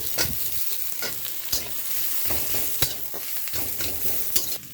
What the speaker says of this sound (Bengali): এখানে পেঁয়াজ, রসুন আর লঙ্কা কষে নিচ্ছি আমি